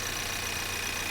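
Steady hum of a Ford Maverick EcoBoost engine running at idle, a continuous low drone with faint mechanical ticking from the valvetrain, heard up close with no talking.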